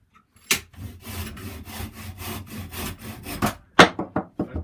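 A handsaw cuts the end off a wooden walking stick held in a vise, making a close, rhythmic series of rasping strokes. A short pause follows, then a few final scraping strokes.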